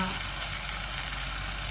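Steady, dense sizzling of peppercorns frying in a hot pan, continuous and close with no pauses.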